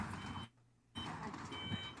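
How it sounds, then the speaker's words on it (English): Beeping alarm from a golf cart outdoors in the rain, steady tonal beeps over wet ambient noise, briefly cutting out mid-clip before resuming. "That alarm is going off. It's this golf cart."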